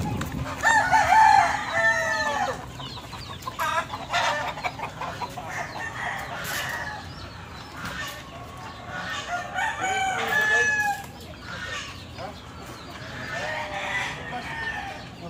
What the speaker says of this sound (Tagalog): pagpapakain ng kanyang mga panabong na manok